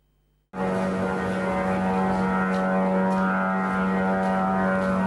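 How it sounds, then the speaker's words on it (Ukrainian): A loud, droning propeller engine buzzes steadily overhead with a constant low hum, starting abruptly and continuing without pause. "Звук шахеда, що летить просто над житловим кварталом Дніпра."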